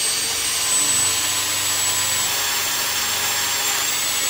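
A drill boring into the oil gallery of a 383 big block engine block, a steady, loud whirring and grinding that runs continuously without a break.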